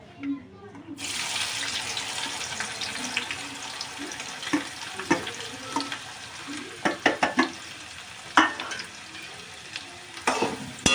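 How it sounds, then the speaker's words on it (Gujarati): Onions tipped into hot frying masala for chicken bhuna set off a sudden loud sizzle that stays steady, with intermittent scraping and clattering of a spoon stirring the pan. "હવે આપણે નાખીશું કાંદા"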